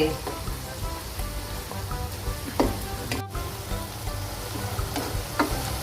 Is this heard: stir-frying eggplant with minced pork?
yes